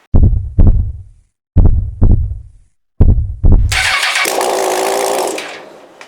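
A Honda CBR1000RR engine with no exhaust pipes fitted is cranked in three short bursts of starter whirring, then catches and roars loudly at a raw, rough idle for about two seconds before cutting off.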